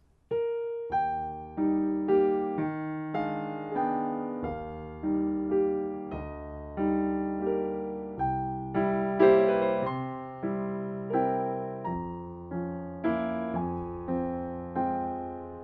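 Solo piano plays the opening of Chopin's Nocturne Op. 9 No. 2, a slow, lyrical melody over a gently rocking left-hand accompaniment, each note ringing and decaying, clear and close.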